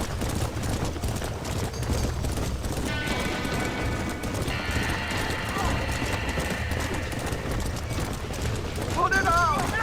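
Horses whinny and neigh amid hoof clatter and commotion during a barn fire in the video game Red Dead Redemption, with people shouting urgently over the chaotic scene.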